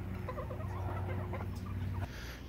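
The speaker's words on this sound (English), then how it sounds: "And here we have the chicken coop." Backyard chickens near a coop on a small city farm, soft low clucking and murmuring over a steady hum of background noise, fairly faint and close.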